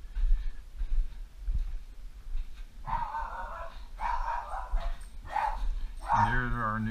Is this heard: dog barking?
yes